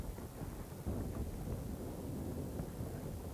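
Steady low rumble of wind buffeting a microphone outdoors on a windy lakeside point while bass fishing, continuous and fairly faint, with no voices.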